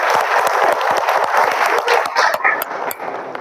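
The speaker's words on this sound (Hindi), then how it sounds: "अपने सबके लिए तालियां एक हो जाए" A hall audience breaks into applause, with dense clapping and some crowd noise that trails off toward the end.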